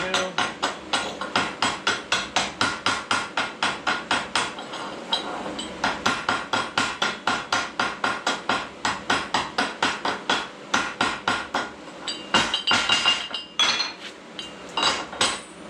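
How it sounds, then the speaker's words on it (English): Rapid metallic chipping hammer strikes on weld slag during dumpster repair welding, a steady fast rhythm of sharp clinks close by, continuing throughout with brief scraping near the end. "Hit it with a chip and hammer and wire brush it."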